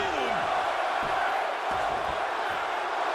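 An arena crowd in the WWE 2K25 wrestling game roars in a continuous, loud wash of cheering, with a few dull thuds and swells underneath.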